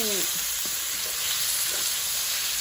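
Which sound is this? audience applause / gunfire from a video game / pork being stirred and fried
pork being stirred and fried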